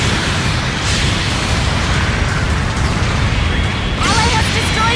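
Supporting-fire explosions in Gundam Battle Operation 2 rumble as a dense, continuous wash of booms and bursts, loud and near, with a sharper burst near the end and game voice chatter mixed in.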